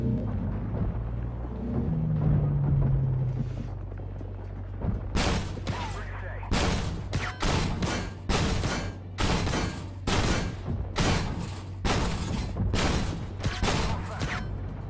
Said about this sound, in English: there's a Terminator down the bottom of the hill that's shooting at him